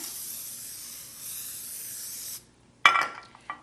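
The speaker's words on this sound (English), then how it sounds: "I'm going to spray this 8-inch glass pan." A steady hiss of an aerosol spray lasting a couple of seconds, then quiet, followed by a few light clinks and taps of glass.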